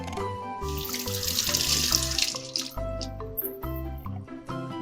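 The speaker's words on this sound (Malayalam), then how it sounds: "ഒന്ന് കൈ കഴുകട്ടെ." Hands washed under a running kitchen tap while making Kerala-style mutton roast: a steady rush of water from the faucet, mid-loud and close, with background music playing throughout.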